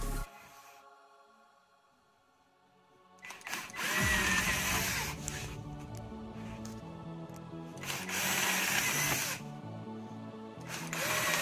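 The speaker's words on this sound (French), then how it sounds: "On a percé." A power drill bores holes through the middle of wooden pallet planks: after a near-silent start, three loud, close whining bursts of a few seconds each, separated by short pauses.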